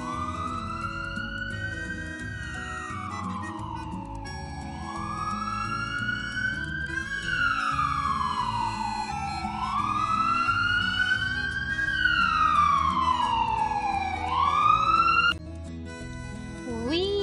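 An ambulance siren wails in long rising and falling sweeps, loud and continuous, with a low rumble of traffic underneath.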